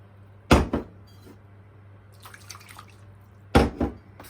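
Two short bursts of water splashing onto a metal baking tray, a few seconds apart, with quieter trickling and clinking in between.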